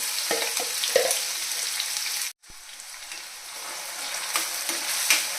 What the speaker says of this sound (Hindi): प्याज और हरी मिर्च को हम मीडियम फ्लेम पे एकदम ब्राउन कलर होने तक फ्राई कर लेंगे